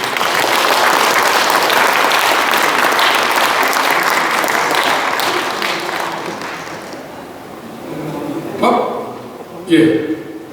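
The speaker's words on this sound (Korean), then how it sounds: "큰 박수로 맞이해주십시오" Big round of applause at a forum audience in a hall as a host is introduced, loud sustained clapping from a crowd that gradually fades out, followed by a few scattered louder sounds near the end.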